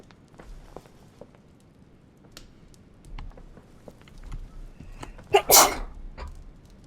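A single sharp sneeze bursts out near the end, loud and close, over a quiet room with faint footsteps and shuffling.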